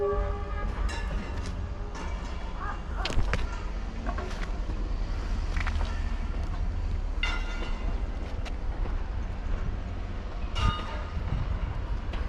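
A train rumbles steadily nearby at Luang Prabang railway station, with continuous mechanical noise and brief metallic squeals, no voices.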